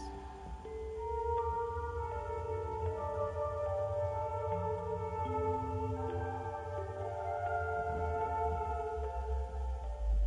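A slow, soft piano melody from the video game Fatal Frame: Mask of the Lunar Eclipse, with sustained, overlapping notes over a low droning hum, quiet and distant in tone, no speech.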